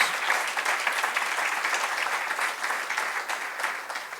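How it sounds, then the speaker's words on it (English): Room of Rotary Club members at a presidential installation giving a round of applause, a continuous, fairly soft rush of many hands clapping that fades slightly at the close. "You deserve a big round of applause"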